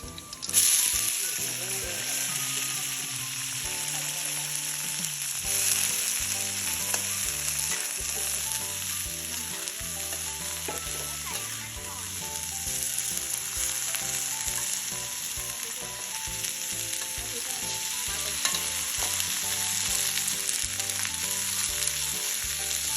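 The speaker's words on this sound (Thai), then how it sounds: "พอกระเทียมเหลืองแล้วใส่ต้นอ่อนทานตะวัน ใส่ลงไป" Sunflower sprouts hit a hot pan of golden garlic and oil, giving a loud steady sizzle and frying hiss with stirring scrapes throughout, close up, with a voice talking now and then over the cooking.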